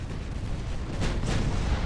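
Secondary naval guns on an 1890-era warship in Ultimate Admiral: Dreadnoughts fire against destroyers, a dense, continuous rumble of overlapping booms that swells louder midway, with no voices.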